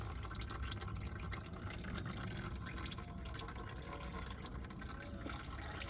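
Motor oil draining from a Cub Cadet mower engine, a faint, steady trickle of liquid with light dripping that runs unbroken throughout.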